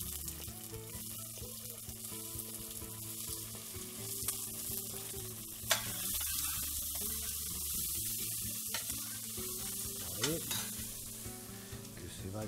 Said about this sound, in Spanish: Tenemos la cebolla pochando